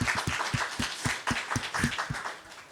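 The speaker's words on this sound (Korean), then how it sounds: "우리 또 이두희 집사님 한번 박수 한번 쳐드리겠습니다" A church prayer-meeting congregation gives a round of applause, a quick run of fairly soft claps from a small group, heard from across the room.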